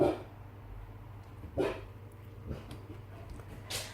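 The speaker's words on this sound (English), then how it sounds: "Something caught my dog's attention and she was barking." A female dog barks roughly three times in short, widely spaced bursts, fairly faint and distant over a low, steady background hum.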